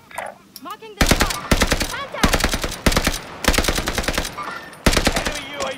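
Rapid bursts of SMG fire in a video game, four or five loud clusters of closely spaced shots separated by brief pauses, with a little talk before the shooting starts.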